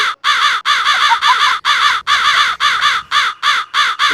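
A crow caws over and over, about a dozen loud, harsh calls in quick, fairly regular succession, close by and with no other sound around them.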